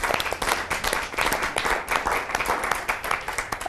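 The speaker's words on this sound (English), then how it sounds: "So let's give everybody again one more round of applause," An audience claps for a panel of speakers in a loud, sustained round of applause with a lively uneven texture of many hands, close and full throughout.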